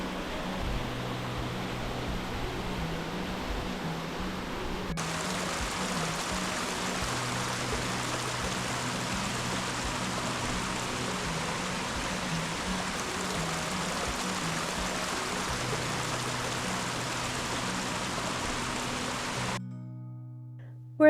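A roadside stream in the Great Smoky Mountains flowing steadily, a constant full-bodied rush of water close by, unchanging for about twenty seconds before cutting off abruptly.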